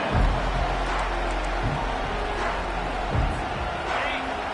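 Large football stadium crowd in a Michigan vs Oklahoma game roaring steadily as a dense, loud wash of noise with no breaks, while a commentator talks over it.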